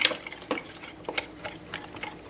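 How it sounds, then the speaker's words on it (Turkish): A spoon stirring dry pudding powder in a bowl gives a quick series of light clinks and scrapes against the sides, close and clear in an otherwise quiet kitchen. "Bu arada tozumu karıştırıyorum burada"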